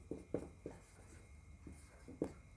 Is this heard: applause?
no